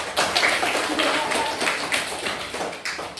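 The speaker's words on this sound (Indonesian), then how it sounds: "Tepuk tangan." Classroom clapping from a group of students, a dense patter of hand claps rising in short surges, fairly near and steady throughout, with some voices mixed in.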